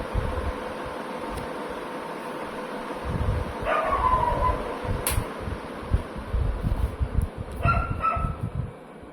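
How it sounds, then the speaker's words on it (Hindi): A dog barks in two short bursts somewhat far off, over the steady drone of a running mechanical fan indoors. "कुत्ता बहुत भौंक रहा है भाई"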